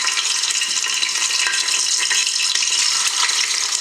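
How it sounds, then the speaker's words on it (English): Goat meat browning in a pan of hot oil for Ghanaian jollof rice gives a steady, dense, hissing sizzle that runs loud and unbroken throughout, with no voices over it. "I've got hot oil in a pan ready to go"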